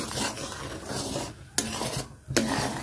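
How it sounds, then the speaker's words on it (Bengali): A spoon scrapes and stirs a thick milk-powder and flour batter in a pan over heat, a continuous rasping rub with two sharp clinks against the pan. "এটা ভালো করে জাল দিয়ে ভালো করে নাড়তে হবে যাতে বসে না যায়।"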